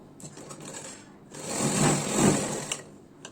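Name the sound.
sewing machine stitching a blouse seam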